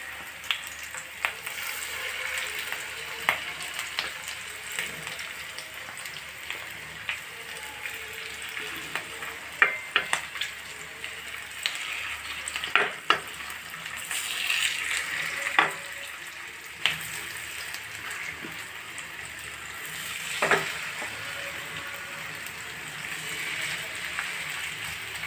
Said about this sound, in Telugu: ఇప్పుడు ఫిష్ వేసేస్తున్నానండి నేను.